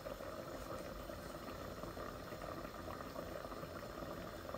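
Tilapia fish curry with potatoes and tomatoes simmers steadily on a medium flame, a dense, even bubbling and sizzling that holds at a constant level throughout with no voices.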